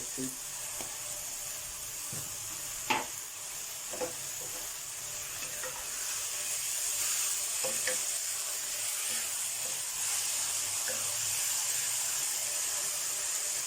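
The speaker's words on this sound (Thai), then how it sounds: "แล้วก็ผัดให้สุก" Eggplant stir-fries in a pan with oyster sauce and fish sauce, giving a steady sizzling hiss with occasional spatula scrapes and clicks that grows slightly louder partway through.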